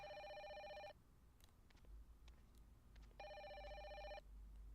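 Phone ringing in the video game Fatal Frame 5: two bursts of bright electronic ringing, each about a second long, separated by a pause, fairly close over a low ambient hum.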